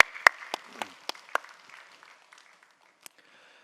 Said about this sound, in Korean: 우리 이준 집사님께 감사와 격려의 박수하겠습니다.